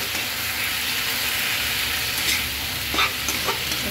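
Greens frying in a pan hiss with a dense, steady sizzle close up, a few soft stirring scrapes rising near the end, no voices.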